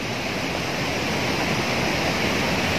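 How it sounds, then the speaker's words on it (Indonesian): A deep river beside a cemetery and old hermitage site in Java flows with a constant broadband rush and splashing, loud and steady with no pauses or voices. "sahabat semua bisa mendengar suara gemercik air yang mengalir di sungai di depan saya ini"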